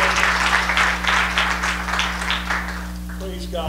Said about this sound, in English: Could you clap your hands to the Lord before you're seated today?